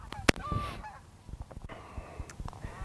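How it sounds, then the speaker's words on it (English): Several geese honk in short bursts, one loud call early, then scattered fainter honks as the flock flies by at a distance over a golf course. "Enjoy the sound of the geese flying by."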